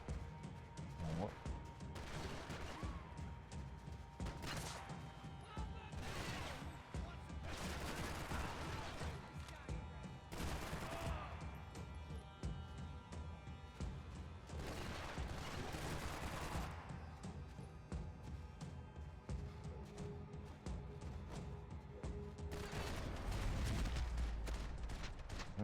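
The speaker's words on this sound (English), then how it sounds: "Gunfire over Hoboken." Gunfire in the Max Payne 3 video game on Xbox 360, repeated bursts of shots and fusillades amid a dense game soundscape, with scattered voices under and between the shots.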